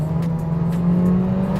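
A German car's engine held at full throttle around 50 km/h in a city street, a loud steady roaring drone with a constant tone throughout.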